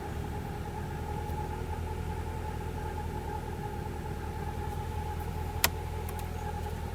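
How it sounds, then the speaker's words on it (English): Honda Prelude with 113k miles idling high while warm and running rich, a steady low engine drone with a constant mid hum, one sharp click near the end. "So we're idling kind of high again."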